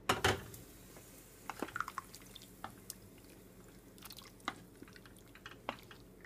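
Small amount of water added to a pot of olive tajine being cooked, heard as faint, quiet drips and soft liquid splashes scattered over several seconds against a low background hum.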